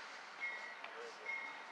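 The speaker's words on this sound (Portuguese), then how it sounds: "Olha o trem aí, gente." An MRS freight train passes in Ibicuí, Mangaratiba, giving a continuous broadband rumble and hiss with faint metallic squeals, steady and moderately distant, with no voices audible.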